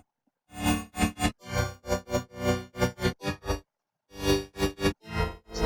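Remix chords layered across several octaves and processed with a Utility plugin play as a series of short, clipped stabs in an uneven rhythm, with a brief gap partway through, clean and alone with no voices.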